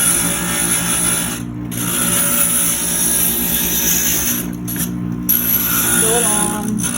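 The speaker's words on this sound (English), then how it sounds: "So this is my grinder." A glass grinder running steadily as it smooths the edges of cut glass, a loud continuous whirring hum with brief rough scraping bursts where the glass is pressed to the bit.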